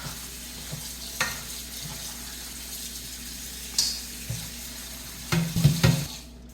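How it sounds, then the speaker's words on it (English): Rinsed pasta is stirred in a pan, giving faint scraping and soft wet clinks scattered over a low background hum, with a louder cluster of knocks near the end. "And I'll stir this around a little bit."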